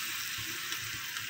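Spice paste fries on low heat in a pan with a little water added, giving a soft, continuous hiss and gentle bubbling, close and quiet.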